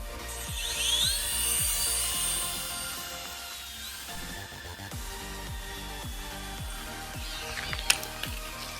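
A cheap toy remote-control helicopter climbing upward in a test flight, its small motor and rotor giving a steady high whine that rises and wavers, with rhythmic low thumps underneath and a couple of sharp clicks near the end.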